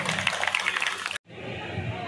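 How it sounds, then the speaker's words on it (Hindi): Loud, dense applause from a crowd at a Prajapati community gathering forms a steady wash of clapping that cuts off abruptly, followed by quieter hall ambience. "जोरदार तालियां."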